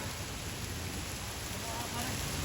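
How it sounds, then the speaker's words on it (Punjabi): Dense, steady pattering of hail drumming on a car roof at night, a constant loud wash of impacts with no clear pauses. "ਗੜੇ ਡਿੱਗਣ ਦੇ ਪੂਰੀ ਤੇਜ਼ ਉਹ ਲੈ ਉਹ ਗੱਡੀ ਦੇ ਉੱਤੇ ਵੇਖੋ"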